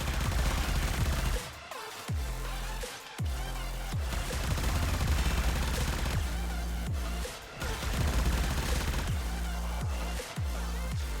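The Supra Vandal firing in Warframe, long sustained bursts of rapid automatic fire broken by a few brief pauses, loud and dense throughout.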